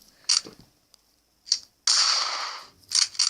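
Gunshots come from a Contra 4 gun simulator app: a handful of sharp, snappy cap-gun-like cracks at uneven intervals, with one longer hissing burst in the middle. The shots are fairly close and clear, with near silence between them.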